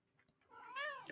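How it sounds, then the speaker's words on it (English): A house cat that has just come in through a bedroom window gives a single short, rising meow, soft and close in an otherwise quiet room. "Me cat's arrived."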